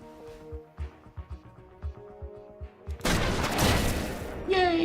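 Gunfire in the game Every Day We Fight: a rhythmic run of thumping shots, then a sudden loud, dense burst of noise that holds to the end.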